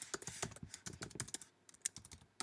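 Fast, close typing on a computer keyboard as a WPA security key is entered, a quick irregular run of crisp key clicks with a brief pause and one final tap.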